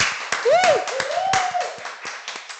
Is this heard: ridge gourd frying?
no